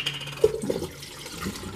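Sweet Petites pickles from Mount Olive slosh out of their brine into a washed jar, a brief, faint splash and glug of liquid and small solids in a quiet room.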